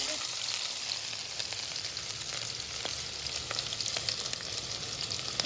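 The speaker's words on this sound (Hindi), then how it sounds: "देखें घी गर्म हो गया, अब इसमें प्याज डाल दें।" Onions frying in hot ghee in a kadai, a steady dense sizzle with faint crackles and pops throughout, close and continuous with no talking.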